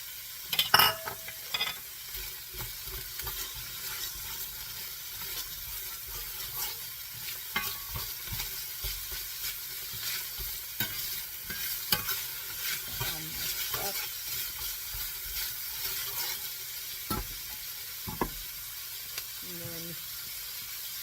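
Onions and carrots fry in a big pot for a Filipino-style vermicelli bean thread dish, a soft steady sizzle broken by occasional clanks and stirring scrapes of a utensil.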